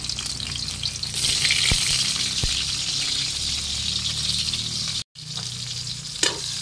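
Garlic sautéing in hot oil, a steady loud sizzle and crackle throughout, close up, with a brief stir or clatter near the end and no talk.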